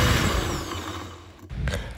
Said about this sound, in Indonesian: Bahan-bahan yang tadi kita langsung blender ya, sampai halus.